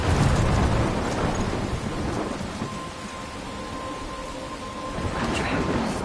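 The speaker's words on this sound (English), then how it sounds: "I'm trapped in a storm?" Thunderstorm with heavy rain in the game Life is Strange, a dense steady downpour hiss with low rolling thunder rumbles swelling at the start and end, loud and continuous, no talking.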